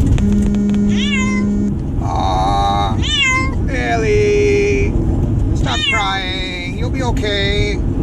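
Cat at the vet crying and meowing repeatedly, several drawn-out plaintive meows and wails close to the microphone, with a person speaking softly in between.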